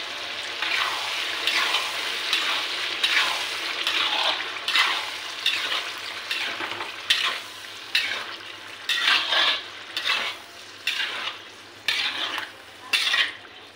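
Yogurt is stirred into a cooking ridge gourd curry in a pan, a spoon scraping and sloshing in repeated strokes over a soft simmer.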